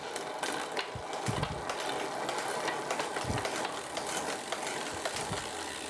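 Road bike shifting through the gears on a new cassette, a steady freewheel whir with repeated mechanical clicks and clunks as the chain moves between sprockets, close by with no talk.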